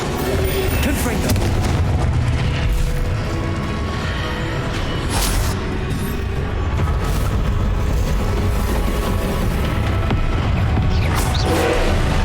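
Confringo blasting spell explosions in the video game Hogwarts Legacy: repeated booming blasts and crashing impacts over a dense, continuous roar of battle noise lasting the whole stretch, with no talk.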